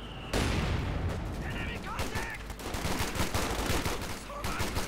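Dense machine gun and rifle fire from the video game Company of Heroes 2, a 1v1 match of American troops against German gunners, rattles in loud overlapping bursts with booming impacts throughout, with a voice briefly present.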